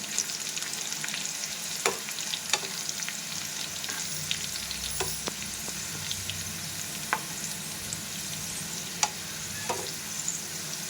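Dried red chillies, asafoetida and curry leaves roasting in hot oil for a chilli chutney, a steady close sizzle broken by sharp spattering pops and occasional stirring scrapes.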